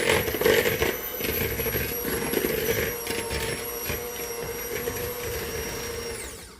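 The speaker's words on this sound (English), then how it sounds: "Today I'm making cookies and I'm mixing them up with my new hand mixer." Yomelo electric hand mixer beating cookie dough, a steady close whirring motor with rattling beaters scraping the bowl, running without pause until it winds down at the end.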